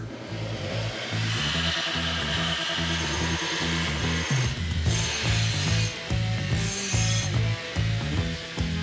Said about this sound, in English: now I just have to clean it up on the belt sander